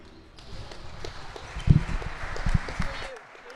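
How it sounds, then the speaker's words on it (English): A round of applause in a gym at a girls' high school basketball game, scattered claps rising and falling among crowd noise and footsteps on the court, fading out at the end. "please join me in a round of applause as the girls deliver their thank you notes"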